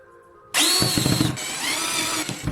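A power drill bores a hole through a plastic pipe. The motor whines up abruptly and holds loud and close, changing pitch as the bit bites and cuts through.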